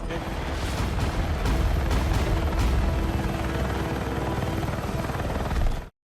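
Rescue helicopter in the Battlefield 6 video game campaign, a loud, steady rotor roar close by with sharp impacts and bursts like gunfire mixed in, continuous for about six seconds before cutting off abruptly.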